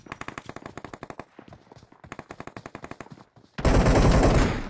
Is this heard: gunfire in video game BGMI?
yes